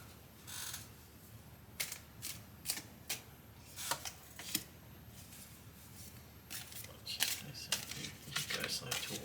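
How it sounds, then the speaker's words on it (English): Tarot cards being shuffled, with soft irregular riffling and slapping bursts spread across the stretch, quiet and close, while a person talks faintly. "You guys like to watch the cards being shuffled."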